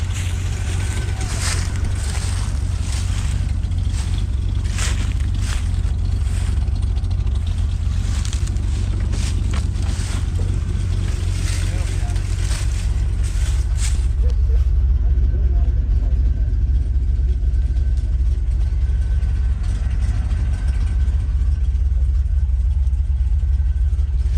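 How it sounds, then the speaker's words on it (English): A truck engine runs with a steady low rumble, loud and constant throughout. Voices talk over it, and a clattering higher-pitched noise fades out about midway. "The truck here drives us home."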